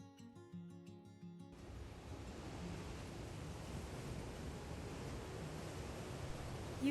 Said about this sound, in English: You can spend hours watching the waves crash along the dramatic cliffs and jagged shoreline here.